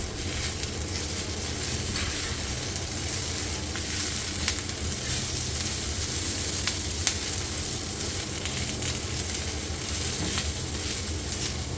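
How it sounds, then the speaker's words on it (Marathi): Loud, steady sizzling of ivy gourd frying on a hot griddle, with occasional light scrapes and crackles throughout and no talking. "तव्यावर मावतील तेवढेच मी तोंडे घातले"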